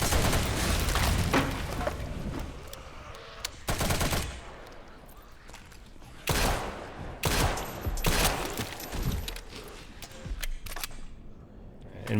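Rapid bursts of video game gunfire and heavy explosion booms in irregular volleys, loud and close, with quieter gaps between the salvos.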